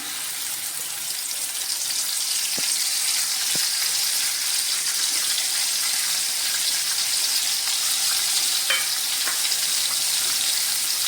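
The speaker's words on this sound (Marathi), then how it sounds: "त्याच्यामध्ये तेलामध्ये आपण आता बोंबील परतून घेऊया" Dried Bombay duck (bombil) pieces frying in hot oil in a kadhai over medium heat, giving a steady close hiss of sizzling with a few faint clinks, no voices.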